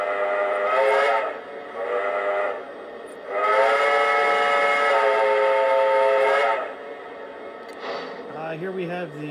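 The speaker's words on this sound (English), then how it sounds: "This is apparently a New York Central 10-wheeler whistle." A Lionel model train sounds a New York Central 10-wheeler steam whistle in several long, chime-like blasts, loud and near, with shorter toots first and a sustained blast in the middle, before a voice starts talking at the end.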